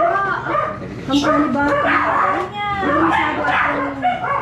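Dogs bark and yip loudly and close by in short bursts, with a whimpering edge, mixed with people talking over them.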